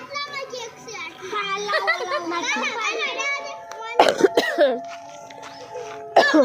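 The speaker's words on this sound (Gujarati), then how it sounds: "ખાંસી થઈ ગઈ" A child coughs in a short burst of harsh, loud hacks, with children's voices chattering and playing before and around it.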